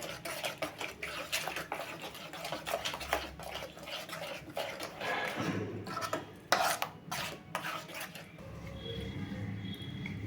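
A spoon stirs guava halwa continuously in an aluminium pan, giving moderately loud scraping and clinking against the metal. The strokes come in an irregular rhythm with occasional sharper knocks and no talking.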